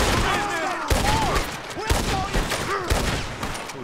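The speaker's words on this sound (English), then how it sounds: "Oh hell, someone shot." Gunfire in a Red Dead Redemption 2 shootout, several sharp reports spaced about a second apart over steady outdoor game ambience, with a voice speaking between the shots.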